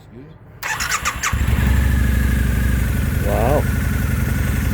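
A 2004 Harley-Davidson V-Rod with fuel injection fires up and settles into a steady, close, loud idle rumble, with a brief squeal early on and voices talking over it.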